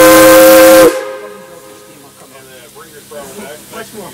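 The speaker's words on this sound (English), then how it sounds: "go ahead and get a two toots on the whistle" A loud steam whistle on Pennsylvania Railroad locomotive 653, heard from inside the cab, blasts for about a second, then cuts off abruptly, followed by talking over a low rumble.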